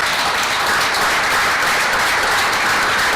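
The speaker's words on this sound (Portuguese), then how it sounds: "Uma salva de palmas, por favor." An audience at a televised debate in Portugal gives dense, steady applause that carries evenly through the whole few seconds with no voices on top.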